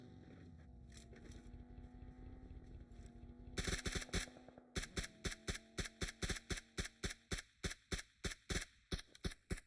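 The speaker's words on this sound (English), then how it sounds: "A few shots there." Rapid gunfire in a battle royale video game, a long steady string of evenly spaced loud shots after a droning engine-like hum.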